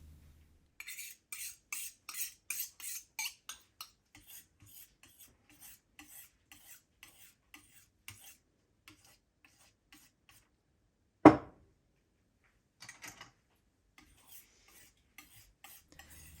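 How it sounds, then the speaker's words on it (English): A glass muller works homemade gouache paint in a quiet room, giving soft rhythmic scraping strokes up close, fading to sparse faint rubs, with one sharp knock midway. "Mix well with the glass muller."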